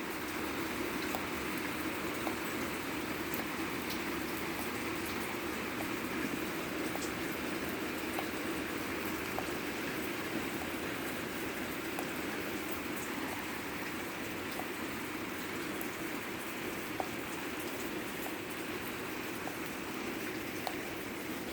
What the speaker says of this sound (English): for now it's thunder showers